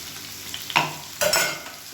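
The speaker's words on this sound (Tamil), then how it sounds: "வெங்காயம் நல்லா பொன்னிறமாக வதங்கட்டும்." Chopped onions sizzling with cumin in hot refined oil in a pan, a steady frying hiss broken by two louder stirring scrapes.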